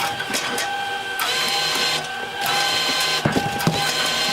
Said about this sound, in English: First we start the labeling part, and then the conveyor feeder, and then of course also the automated input feeder.